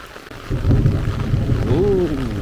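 Low rumbling thunder rolls beneath steady rain, with a voice briefly rising in pitch near the end.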